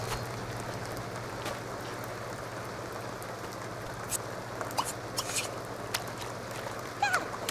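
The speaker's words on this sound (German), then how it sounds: "Ah nee, es regnet." Rain falls in The Sims 2 video game as a steady, even hiss of patter with a few faint scattered clicks near the end, heard alone without talk.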